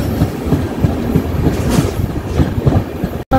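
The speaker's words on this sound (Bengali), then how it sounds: "ট্রেনটা সেবক সংলগ্ন বন জঙ্গল এরিয়া ক্রস করছে।" The Mahananda Express runs through the deep forest near Sevoke in the Dooars elephant zone. Its wheels beat a loud, steady, rhythmic clickety-clack over the rails, heard from close by with no voices.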